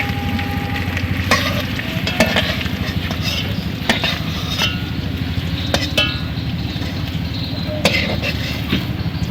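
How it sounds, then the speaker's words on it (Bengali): Potatoes fry in hot oil in a pan, a loud continuous sizzle close by with frequent spoon clinks and scrapes as they are stirred. "এখন আলুগুলো ভালো করে ভেজে নেব"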